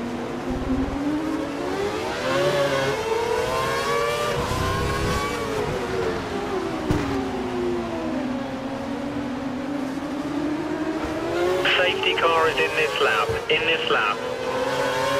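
A Formula One car's engine in the F1 2012 racing game at Montreal, droning loudly and steadily with pitch rising and falling through gear changes, a tyre squeal flaring near the end, and speech over it.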